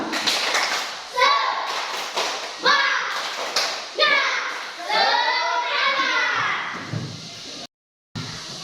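A classroom of children stands and performs a rhythmic spirit clap routine, with bursts of sharp unison claps and stomps alternating with the children's loud chanted voices, followed by a brief silence near the end.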